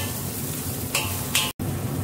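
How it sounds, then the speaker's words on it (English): Ginger garlic paste sautéing with golden-brown onion in a pan: a steady soft sizzle with two brief scraping stirs and a momentary dropout, no voices. "Add ginger garlic paste and saute for 1 to 2 minutes."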